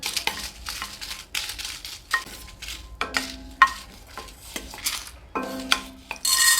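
Dried red chillies being lightly roasted in a pan: steady dry rattling and scraping as a spoon stirs them against the metal, with light clinks of utensils, close and fairly loud, no talk.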